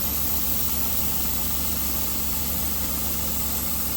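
An airbrush air compressor kicks in and runs steadily with a low, droning motor rumble and hiss, constant and close throughout, while weathering model railway track.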